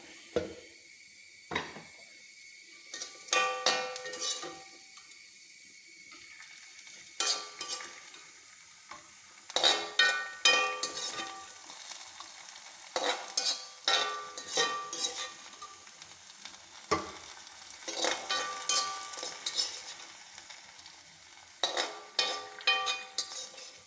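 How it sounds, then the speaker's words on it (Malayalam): Coconut pieces sizzle in hot fat in a pan for rambutan payasam, a steady close hiss broken by repeated scraping and clinking of a metal spoon as the pieces are stirred and scooped, with no talking. "ഇത് മൂക്കട്ടെ തേങ്ങ ഇവിടെ മൂത്തു നമുക്കിനി പായസത്തിലേക്ക് കോരിയിടാം"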